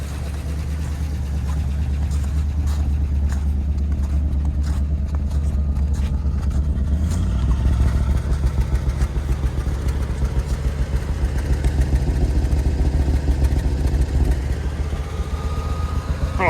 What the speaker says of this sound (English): oh, she's revving up.